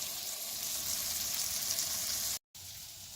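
Onions frying in a cast iron skillet give a soft, steady sizzle that is quiet and continuous, cut by a brief gap near the end.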